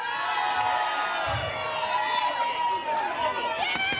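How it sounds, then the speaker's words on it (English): A crowd at a northern soul night shouts and cheers, a dense mass of voices and whoops that fills the room steadily from start to finish, with a voice and music blended in. "Shout and cheer when I put the cup over their head."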